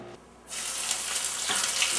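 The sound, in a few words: jalapeno pepper poppers frying in grease on the stove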